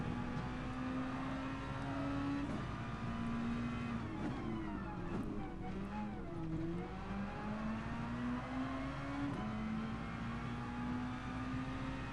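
A race car engine in Gran Turismo Sport, Red Bull X Junior Series, drones steadily throughout. Its pitch climbs and drops with gear changes and throttle, and it stays fairly quiet and continuous with no talk.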